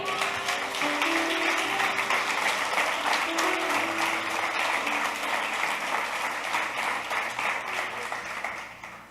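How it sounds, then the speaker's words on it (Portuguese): A church congregation applauds at length during a Portuguese-language seminar service, a broad, sustained roar of many hands clapping that stays loud throughout, with faint tones and murmuring beneath, before tapering slightly at the end. "Aplauda o nome dele."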